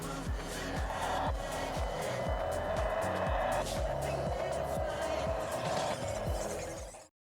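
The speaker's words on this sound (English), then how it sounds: "that was two really cheap, fully licensed Toyota RC cars" A small, inexpensive licensed Toyota RC truck drives over dirt, its whining electric motor revving in repeated rhythmic bursts with gritty scrabbling and scraping close by, steady and fairly loud throughout.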